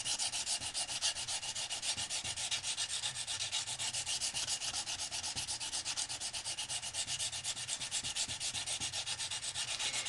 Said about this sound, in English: scraping the end of that sharpening stone